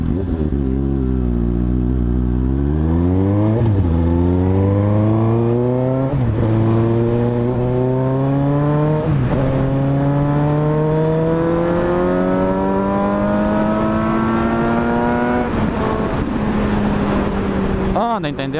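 A Suzuki GSX-S750 motorcycle accelerating hard through several gears with traction control set to 3, its engine note climbing and dropping at each of about five upshifts, loud and close throughout.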